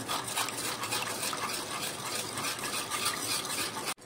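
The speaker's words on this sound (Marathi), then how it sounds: "आता आहे ना आपण 3-4 चमचे घट्ट दही घातले आणि हे आपण चांगलं मिक्स करून घेऊया" Thick set curd is stirred into lukewarm milk with a spoon for mishti doi, making a steady, close wet scraping and swishing that runs without a break and stops abruptly near the end.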